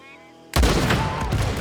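A sudden burst of gunfire erupts after a quiet lead-in during a shootout in the Western video game Red Dead Redemption, with loud, dense volleys of overlapping shots continuing steadily.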